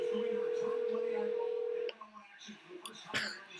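A telephone line tone plays during a live impromptu phone call on a podcast. It holds for about two seconds, then cuts off, and a few soft voices and a brief cough-like noise follow.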